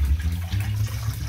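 Water pours steadily into a cooking pot to make pickle brine with cinnamon sticks, a continuous low rushing splash that holds at an even level for the whole moment with no talking.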